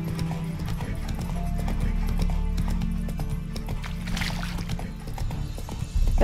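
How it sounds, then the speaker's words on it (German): In the Witcher 3 Wild Hunt video game, a horse's hooves clip-clop in a steady ridden rhythm, with a whinny mixed into the game's ambient sound. "Kann man in den Städten mit dem Pferd auch reiten?"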